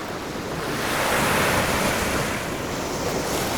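Ocean surf breaks steadily on a cold northern shore in Lofoten, a loud continuous wash of waves with wind buffeting the microphone throughout.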